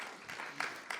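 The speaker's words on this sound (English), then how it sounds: "Oh, yeah, definitely claps." Scattered audience clapping at a public art talk, a few faint sparse claps rising briefly over a quiet room, with no voices.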